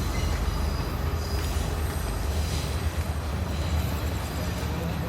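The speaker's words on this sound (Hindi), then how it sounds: "ये ट्रेन जा रही है, दिख रही है।" Train rolling past on a railway track in Colombo, Sri Lanka, a steady loud rumble of wheels with metallic squeal throughout, close by, with faint background noise.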